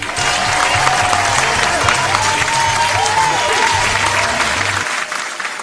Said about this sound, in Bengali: লাকির জন্য একটা জোরে হাততালি হয়ে যাক।